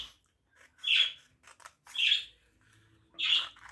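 A parrot gives three loud, harsh squawks spaced about a second apart, with quiet gaps and small scratchy noises between them.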